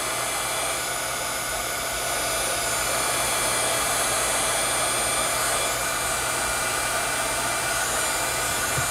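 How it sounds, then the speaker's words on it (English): Heat gun blowing hot air to dry an ink-mottled 3x5 index card tag, a steady loud whooshing fan roar with a low motor hum, continuous and close throughout. "you could also use the heat gun to dry it"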